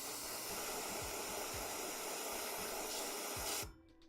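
Aerosol spray paint hissing onto a small painted miniature figure, a steady close broadband spray lasting several seconds before cutting off abruptly, with faint low knocks underneath.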